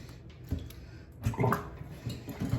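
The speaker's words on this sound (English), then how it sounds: "So we're just going to let the water out." Water draining out of a basin or tub after doll hair has soaked in it, a gurgling, splashing flow with uneven bursts that grows louder toward the end.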